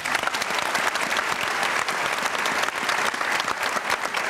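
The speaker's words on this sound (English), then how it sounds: "Please give yourself a quick round of applause." A crowd claps steadily, dense sustained applause from many hands filling the room without pause.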